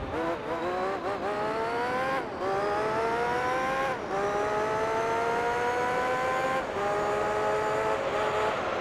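A BMW racing in Gran Turismo 3 gives a loud, continuous high-revving engine whine that climbs steadily through each gear, with brief dips at the shifts and no talking.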